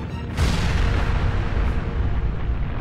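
A sudden loud explosion erupts in the video game Persona 5 Royal, a sharp onset after a quieter moment followed by a sustained, heavy rumbling roar that carries through to the end.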